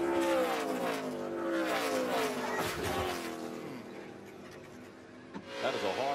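Onboard audio from an ARCA race car: engine roaring and whining, then a sudden harsh impact with scraping and rumble, loud and close, with engine noise fading afterward.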